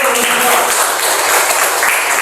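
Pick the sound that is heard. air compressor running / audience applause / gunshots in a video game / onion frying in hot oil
audience applause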